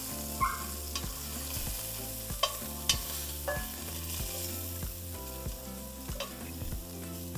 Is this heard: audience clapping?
no